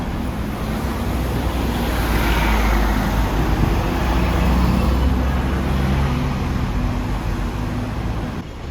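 Steady road traffic roars in Hong Kong, with city buses and cars passing in a continuous, loud, broad wash of engine and tyre noise and no distinct individual vehicles.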